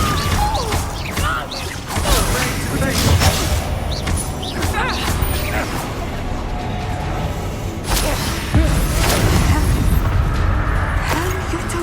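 Confringo blasting curse explosions in Hogwarts Legacy, repeated booming blasts and whooshes in a dense, loud combat mix, with bursts recurring every couple of seconds.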